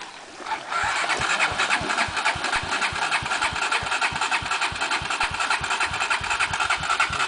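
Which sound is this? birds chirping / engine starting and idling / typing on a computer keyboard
engine starting and idling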